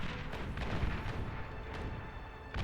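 Hound units fire at long range in Beyond All Reason, producing faint, distant booms and thuds in a loose repeating pattern over a low rumbling bed.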